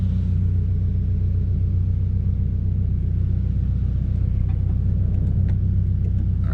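A Scion FR-S creeps along in reverse with a steady, low engine rumble and drivetrain drone, loud and close from inside the cabin, with a few faint ticks near the end.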